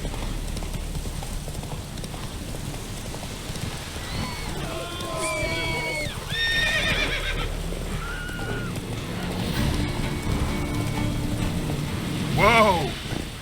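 Roach the horse from The Witcher 3 galloping, with steady clip-clop hoofbeats and rain, plus whinnying calls near the end. Someone speaks briefly over the hoofbeats.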